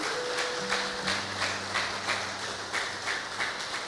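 Church congregation clapping joyfully during a worship service, a steady, rhythmic patter of many hands with sustained keyboard tones ringing underneath, fairly even in loudness throughout.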